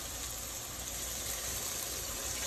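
Water pours steadily into a cooking pot for Haitian black rice (diri djon djon), a continuous, moderately quiet gushing with no breaks.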